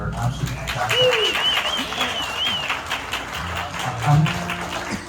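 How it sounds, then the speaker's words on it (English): An audience applauds a pipe band at a concert, steady clapping that fills the hall while someone talks over it. "Give them a round of applause, they were absolutely fantastic."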